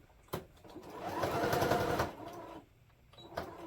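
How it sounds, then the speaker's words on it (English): A Singer Futura sewing machine, handed down within the family, runs in a steady buzzing burst of stitching for about two seconds, close up, with faint clicks before and after and no talking. "I am using the Singer Futura sewing machine that was passed down to me from my sister."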